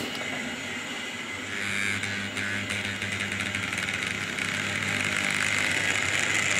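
A Tri-ang/Hornby Caledonian single wheeler model locomotive runs with a steady, close mechanical whirr and rattle that grows slightly louder partway through, with no talk.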